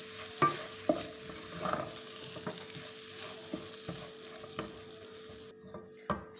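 Soy sauce is stirred into a chicken filling in a pan: a spoon scrapes and knocks in irregular strokes over a soft, low sizzle, fairly quiet and close.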